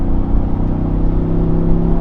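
A 2024 Ford Bronco Sasquatch with its turbocharged four-cylinder engine pulls on 35-inch mud-terrain tires, giving a steady, close engine drone with a low rumble and a smooth rising whir throughout.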